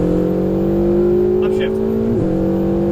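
Ferrari 488 GTB at full throttle on a racetrack, a steady loud engine drone that climbs in pitch, then dips briefly at a gear change before pulling on, with faint talk over it.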